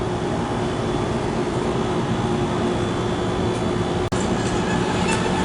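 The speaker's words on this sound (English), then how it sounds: "You kind of hear the motors from out here." Hydraulic MEI/KONE elevator motors at a Super Target store hum in a steady, continuous drone heard from outside the shaft, with a brief click near the end and no talk.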